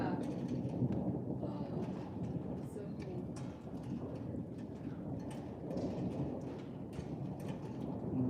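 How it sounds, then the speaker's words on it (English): A thunderstorm over Paris: steady rain hisses and wind rumbles throughout, with low thunder rolling beneath it. A person talks over the storm. "Wow, it really is a thunderstorm."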